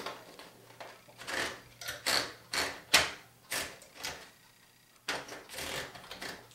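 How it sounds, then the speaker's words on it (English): Brief typing sample on a 1953 Smith-Corona Silent manual typewriter: a series of sharp, close key strikes in irregular bursts, with a short pause before a final cluster of keystrokes. "now we'll do a brief typing sample of this Smith Corona Silent"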